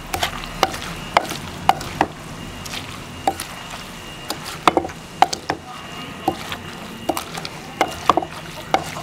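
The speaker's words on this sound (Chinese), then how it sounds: "现在把这剁" Chili peppers and preserved eggs chopped and pounded with a blade on a wooden board, a steady irregular series of sharp close knocks with wet squishy undertones, repeating every second or so without speech.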